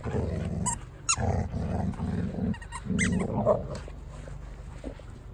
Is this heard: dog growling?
yes